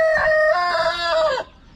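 A rooster crows once, close and loud, a single drawn-out call with a hoarse rise and fall, followed by quiet background clucking.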